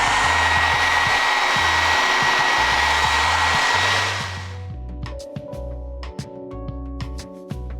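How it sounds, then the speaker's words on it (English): A hair dryer blows loudly and steadily for about four seconds to dry airbrushed paint, then shuts off, leaving quieter background hum and a few faint clicks. "I'm just going to use the hair dryer to speed up the drying time."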